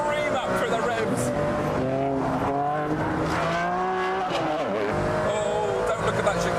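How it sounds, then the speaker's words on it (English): A high-revving Ferrari Enzo engine screams up through the gears, its pitch climbing and dropping in sweeps, loud and close, with a voice over it. "Now the Ferrari's alive. The lights on the wheels scream up through the revs."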